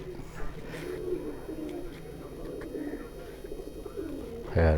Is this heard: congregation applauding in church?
no